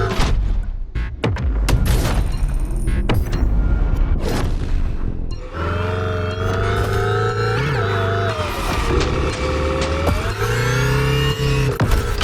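The Hoonatron Gymkhana car in the video game The Crew Motorfest roars and revs loudly, its engine howling and tires squealing through drifts, with booming thumps early on and a sustained, pitch-shifting whine later.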